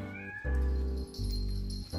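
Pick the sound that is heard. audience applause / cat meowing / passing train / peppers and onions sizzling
cat meowing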